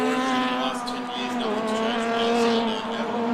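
A saloon race car loses grip out of the final corner at Sandown, its engine howling loud and close with a sustained tire squeal as it slides and is caught again.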